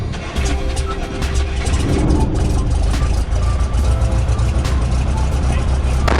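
Light aircraft propeller engine starts and settles into a loud, steady running roar, close by with a busy rattling texture throughout.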